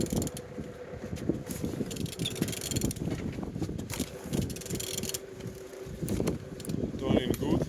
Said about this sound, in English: Turning good.